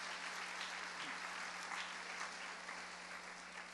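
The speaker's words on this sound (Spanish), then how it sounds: "Démosle otro fuerte aplauso al Señor, hermano." Church congregation clapping together, a dense continuous applause heard from within the crowd, steady and fairly quiet throughout.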